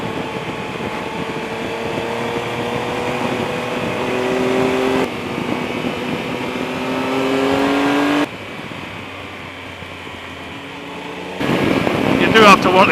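A Triumph Explorer XC motorcycle on twisty roads: the engine climbs and drops through several gears with rising tones and abrupt shift breaks, under heavy wind rush on the microphone.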